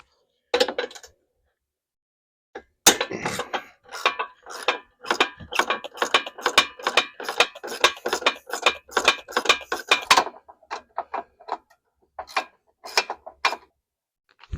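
Ratchet clicking in quick repeated bursts as hood bolts are loosened on a John Deere 2653A mower, close and clear with short pauses between runs of clicks.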